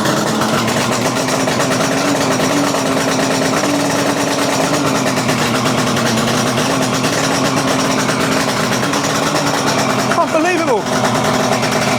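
Kawasaki KH250 two-stroke motorcycle engine running on choke after starting, a steady, continuous buzzing drone that stays loud and close throughout, with a brief pitch wobble near the end.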